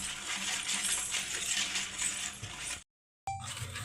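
Cake batter with a pinch of salt being mixed in a bowl: a steady, busy clinking and scraping for nearly three seconds, a brief silence, then the mixing resumes.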